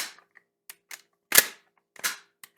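A worn, restored Winchester 1906 rifle has its action cycled by hand, giving a string of sharp metallic clicks and clacks at uneven intervals, close and alone.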